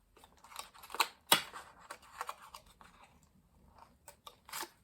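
Scissors snip through paper while a last-minute gift is being made, a series of sharp, close crunchy cuts in an irregular rhythm, quiet overall with brief pauses between snips.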